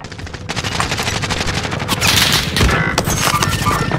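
Automatic gunfire in Call of Duty Modern Warfare's Plunder mode, rapid dense bursts of machine-gun and rifle fire that run steadily through the whole stretch, loud and close, with a heavier swell midway.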